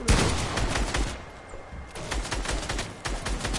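Rapid video game gunfire rattling in dense bursts of sharp shots, loud and close, with a brief lull in the middle before the firing resumes.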